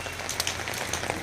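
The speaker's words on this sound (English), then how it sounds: "Look how heavily it's raining." Heavy monsoon rain pours down in a dense, steady hiss with scattered louder drop splashes on nearby surfaces, no voices over it.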